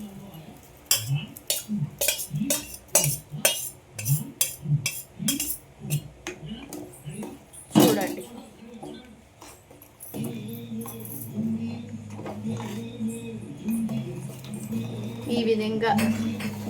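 A spoon scrapes and knocks against a pot while fried dough balls are stirred into boiling jaggery syrup, in a regular rhythm of clinks with speech over it, followed by a steadier simmering stretch.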